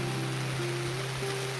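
Steady rain falls on a hut roof in a rural Philippine village, a dense continuous hiss with a low steady hum running beneath it, no voices.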